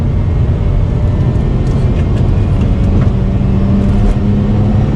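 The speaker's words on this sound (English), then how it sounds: "And that engine just keeps revving." A Mazda RX8 rotary engine revs high and loud while the car drives along twisty roads, a sustained, strained drone that holds steady from start to finish.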